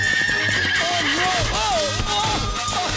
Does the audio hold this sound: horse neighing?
yes